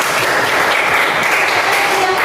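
A short burst of clapping from students in a classroom lesson, close and fairly loud, with a murmur of voices mixed in.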